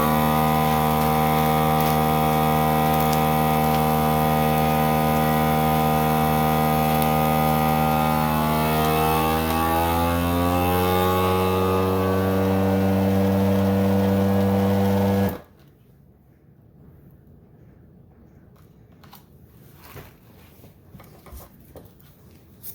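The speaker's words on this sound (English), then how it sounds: "I'm going to place it inside a vacuum bag here, and we're going to vacuum seal, just like so." A vacuum sealer pumps the air out of a bag holding homemade bresaola, a loud steady motor drone with rising strained tones for about fifteen seconds, then cuts off abruptly into quiet with faint handling noises.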